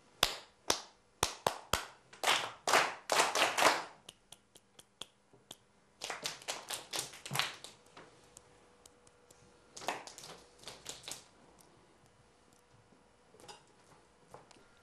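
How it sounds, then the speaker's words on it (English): Sharp, crisp hand claps in a warm-up rhythm exercise, a leader's pattern answered by a classroom group clapping it back, in phrases of quick single claps separated by pauses, with some loud clusters and some soft ones. "I'm going to clap a rhythm and I'd like you to clap it back to me, please."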